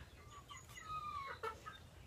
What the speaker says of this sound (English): My roosters are just now learning to crow.